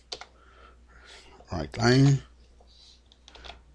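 Computer keyboard keys click in short bursts while C# code is typed, close and light, with someone speaking briefly over the keystrokes.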